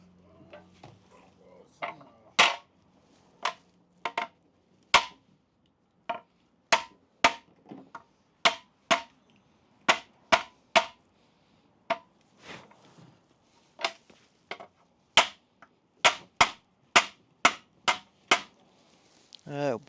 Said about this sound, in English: I'm gonna go ahead and hammer out the Six Monkeys aluminum plate so it's straight back to where it was